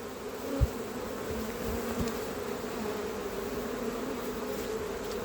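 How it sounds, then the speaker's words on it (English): A dense, steady hum of many honey bees buzzing together around a hive, continuous and moderately loud, with an occasional soft knock. "the bees are not unhappy"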